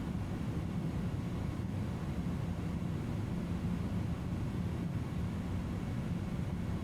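Steady low jet engine drone of an Airbus A310 in Microsoft Flight Simulator 2020, a constant cabin-like rumble with no talk, even in level for the whole stretch.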